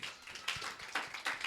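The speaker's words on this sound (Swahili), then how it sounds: "Pigia Bwana Yesu makofi." A church congregation at a Sunday service claps for Jesus, a quick run of rhythmic hand claps, moderately near but fairly faint.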